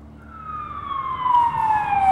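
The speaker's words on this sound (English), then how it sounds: "It's just an ambulance!" An ambulance siren wails with a single long, clear tonal sweep that slowly glides downward, growing louder as the vehicle approaches, with faint road noise underneath and no voices.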